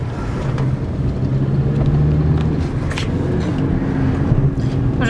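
Car driving along, heard from inside as a steady low road and engine rumble with a faint hum, continuous and fairly loud for about five seconds.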